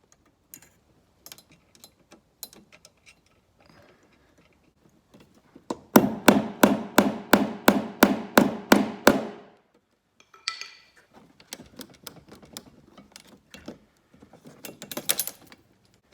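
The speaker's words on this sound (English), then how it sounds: "So I've got blue tack on the end of the screw to hold it onto the screwdriver." A screw is driven by hand with a screwdriver while a fridge ventilator fan kit is fitted in a caravan or motorhome, giving a close run of about a dozen sharp, evenly spaced ticking clicks, with scattered lighter knocks and rustles before and after.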